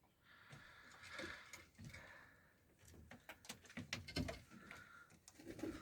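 Tumbler pigeons coo in a coop, soft throaty calls rising and falling, with light fluttering and tapping noises close by.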